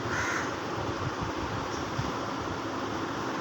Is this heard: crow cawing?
yes